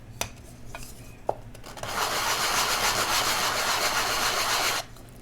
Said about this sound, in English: if you do wish to smooth things up a little bit, because that does leave a little bit of a burr, this is 320